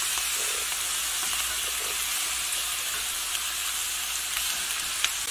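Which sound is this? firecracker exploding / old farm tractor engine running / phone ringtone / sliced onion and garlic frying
sliced onion and garlic frying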